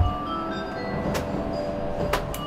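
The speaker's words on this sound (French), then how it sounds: "le train vient à peine de démarrer" Inside a train that has only just pulled away, near the onboard toilets, a low steady rumble carries faint clicks and a couple of brief hissing bursts, with no talking.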